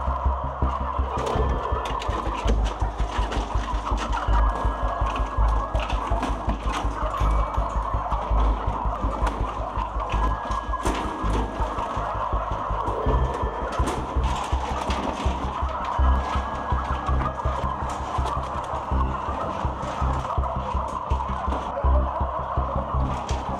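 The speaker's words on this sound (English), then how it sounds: "Turkeys huddle together, terrified of what comes next." A large flock of turkeys on a commercial turkey farm, being caught and thrown into crates, fills the air with dense, nonstop clucking and agitated calls, loud and steady throughout with no talking.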